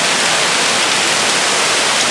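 A sudden downpour of heavy rain with hailstones in São Paulo, a loud, constant broadband roar of water and ice striking nearby surfaces, steady throughout with no voices.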